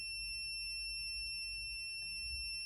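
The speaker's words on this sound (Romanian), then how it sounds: "sirena a funcționat local" High-pitched steady electronic tone from a smoke alarm siren triggered through a Sonoff ZBMINI relay setup, faint and continuous with a few brief clicks, no voices.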